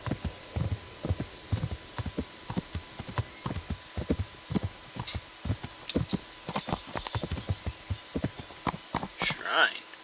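Horse hooves clip-clop steadily in the medieval role-playing game Kingdom Come: Deliverance, a brisk run of regular, close hoofbeats lasting throughout, with brief game sounds near the end.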